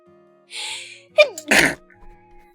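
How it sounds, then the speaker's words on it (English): Two loud, forceful sneezes in quick succession, the second preceded by a sharp intake of breath, close to the listener with a quiet background. "Holy moly, those are big sneezes."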